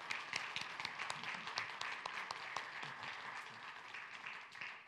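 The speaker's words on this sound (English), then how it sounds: "let's give these folks a round of applause for all their work" Church congregation gives a steady round of applause, many hands clapping in a dense, even wash at moderate distance, with no talk over it.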